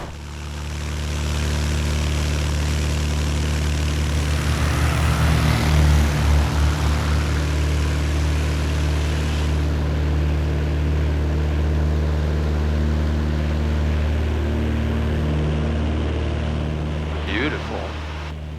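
A small propeller airplane revs to a loud, steady engine drone for its takeoff run from a grass strip, with the pitch rising and the roar holding strong throughout.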